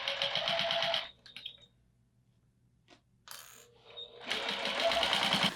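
A sewing machine with a walking foot stitches pillow fabric: fast, even mechanical whirring that pauses for a few quiet seconds with small clicks, then picks up again loud and close.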